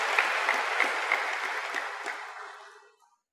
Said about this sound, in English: all those who clapped